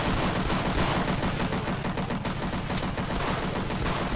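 Dense, continuous gunfire from soldiers in the video game Sven Co-op, rapid automatic shots blending into a loud unbroken barrage without pause.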